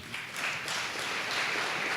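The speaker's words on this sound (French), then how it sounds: "Donc on peut l'applaudir, bien sûr." Audience applause at a French public Q&A session, honouring a student of economics and psychology; steady broadband clapping from a room full of people sustained for a couple of seconds at moderate level.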